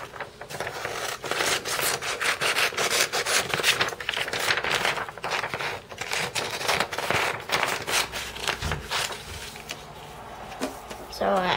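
Scissors cut paper along the outside lines of a paper cube template, giving a close, steady run of crisp snipping and rubbing strokes throughout.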